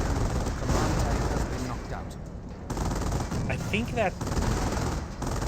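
Heavy gunfire and a large Goliath explosion crash through a Company of Heroes 1 battle between British and Panzer Elite forces, a dense, loud barrage with a commentator talking over it.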